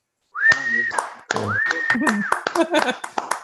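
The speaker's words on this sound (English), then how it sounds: "So can we give Maxim and the MPU Cloud team a round of applause?" A hackathon demo-day crowd responds to a team with a long rising whistle, a second whistle, then scattered sharp claps and snaps, fairly close and sparse rather than a full ovation.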